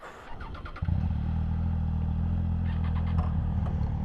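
A Triumph Scrambler 1200 XE motorcycle rides an off-road section at a Triumph off-road experience day. After a brief rattle, its engine settles into a loud, close, steady low rumble, with light clatter on top and no talk.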